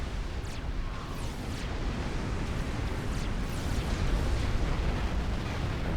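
A Seraphim battleship explodes in the strategy game Supreme Commander: Forged Alliance Forever, a sustained rumbling, crackling blast that stays loud and dense for several seconds.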